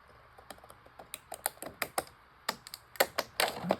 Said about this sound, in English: I'm going to cut across the top here.